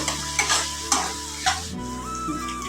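Tomatoes and onions frying in a pan while a spoon stirs them, with steady sizzling under a few sharp scraping stirs and a sustained tonal hum in the background.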